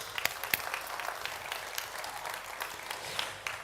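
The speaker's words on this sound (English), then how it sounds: "Another applause to people who are just following us on YouTube" An audience applauds at a live-streamed event, a steady patter of many hands with a few louder individual claps, and no voices over it.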